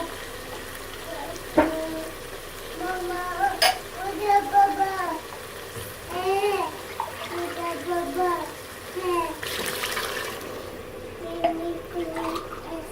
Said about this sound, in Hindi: अब हम इसमें 2 से 3 गिलास पानी के ऐड करके शोरबा लगा लेंगे।